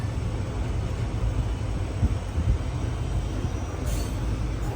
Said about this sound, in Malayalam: ട്രെയിൻ ഇതാ തമിഴ്നാട്ടിലെ വേളാങ്കണ്ണിയിലേക്ക് എത്തിയിരിക്കുകയാണ്